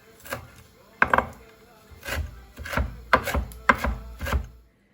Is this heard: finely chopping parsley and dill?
yes